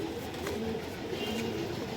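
Closed-tail Pakistani high-flyer pigeons coo in a low, steady murmur, the soft throaty calls rolling on continuously at close range with no voices present.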